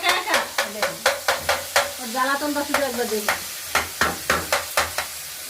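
Food is stirred and fried in a home kitchen pan, with a rhythmic series of sharp scraping strokes over a steady sizzle; a voice speaks briefly partway through.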